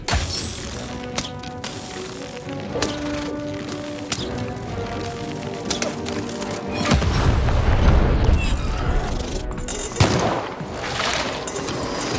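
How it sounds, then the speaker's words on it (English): In the Lost in Random video game, cannons fire in a battle against the Baroness: a volley of booming shots and rattling impacts, loudest midway through, layered over ongoing game music. "Shoot the button to fire the cannon."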